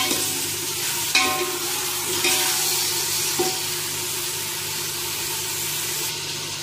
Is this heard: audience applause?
no